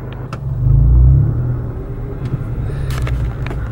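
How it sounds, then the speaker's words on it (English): Los Angeles road traffic rumbles loudly around a car, a deep engine swell building and fading, followed by steady road noise with scattered clicks and passing sounds. "This is typical LA traffic."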